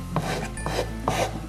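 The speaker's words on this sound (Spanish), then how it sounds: "con una lija le vamos a sacar todo el bordecito" Sandpaper rasps along the edge of a craft piece in short, repeated strokes, close and fairly loud, with no one talking.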